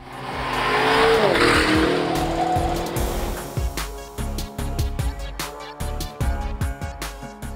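A Lamborghini Urus V8 engine roars and revs up, then drops into a string of choppy gearshift bursts and throttle blips as it drives off.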